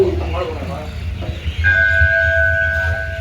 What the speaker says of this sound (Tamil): குட்டி ஆண்டவர் கோயில் மணியோசை.